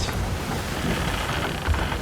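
A storm in a naval video game featuring brigs, with a steady roar of rain and a low rumble of thunder underneath, dense and continuous throughout with no voices.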